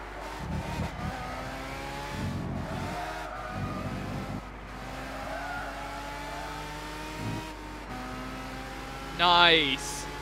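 A Ferrari 458 race car engine in Gran Turismo 6 hums and shifts through gears during a one-make race, with brief skids and tire squeal near the end and people talking over it.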